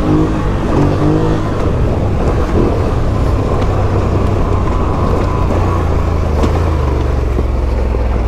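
1000cc super quad engine revving hard on a dusty trail, loud and close, a continuous throaty roar with rising and falling revs.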